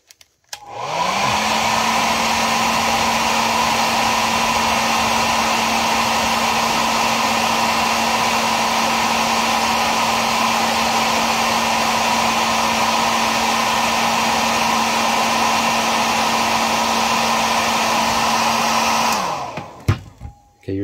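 A heat gun or hair dryer blows hot air onto the plastic foot holes of an action figure to soften them, a steady loud whooshing drone held for about eighteen seconds before it shuts off, with no talking.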